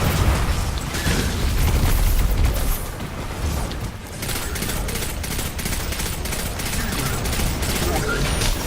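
Gunfire in the video game Destiny 2, a loud, sustained barrage of rapid shots and booming bursts that continues without pause, heavy and close throughout.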